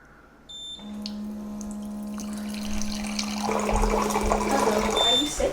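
Tap water running and pouring into a container, a steady stream that grows louder and fuller as it fills, with a faint tonal hum underneath.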